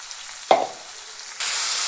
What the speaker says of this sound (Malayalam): നമുക്ക് ചോപ്പ് ചെയ്ത് വെച്ചിരിക്കുന്ന സവോള ഇട്ട് കൊടുക്കുക